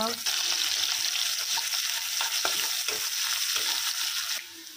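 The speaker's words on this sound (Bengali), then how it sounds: "পেঁয়াজটা ভালোভাবে ভাজা হয়ে গেছে।" Onions fry in a pan with a constant, bright sizzle, broken by occasional scraping stirs of a utensil, before the hiss drops away at the very end.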